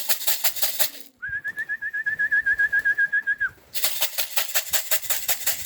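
Young homing pigeons at a loft make soft calls while wings flap in rhythmic bursts at the start and end, with a sustained whistle in the middle.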